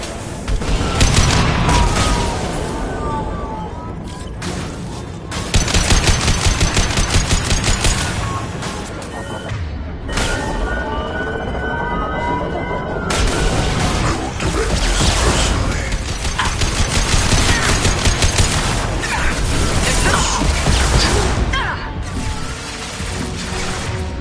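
Mass Effect 2 combat: sustained heavy gunfire with rapid automatic bursts, metallic mechanical clatter and booming impacts, loud and dense throughout with brief lulls.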